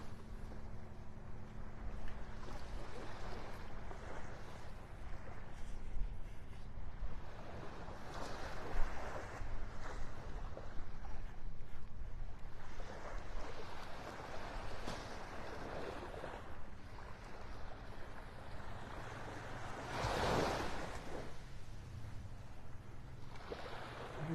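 Gentle waves wash onto a clean beach in North Naples, Florida, a steady soft surf with wind rumbling across the microphone and a slightly louder surge near the end, heard alone without voices.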